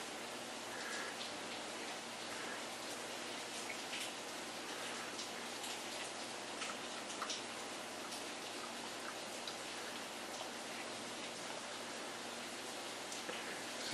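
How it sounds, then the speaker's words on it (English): Steady rain falls outside, a constant soft hiss of drops at moderate distance with scattered faint ticks, unbroken and with no voices. "Is it still raining out, Molly?"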